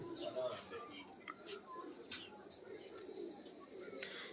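A pigeon coos softly in a low, faint, repeated murmur among other bird chirps, with people talking nearby.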